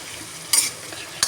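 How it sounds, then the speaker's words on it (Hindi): Okra in a pan with turmeric and chili being stirred, a soft frying hiss punctuated by two short, louder scraping strokes of the spoon, close and without talk. "हल्दी और मिर्च मैंने इसमें डाल दी, और अब मैं इसको चला दूँगी।"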